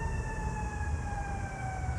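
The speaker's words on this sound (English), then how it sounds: "Sounds like a fire truck." Wailing fire truck siren from a passing emergency vehicle, steady tones sliding slowly downward at moderate distance over low rumbling traffic noise.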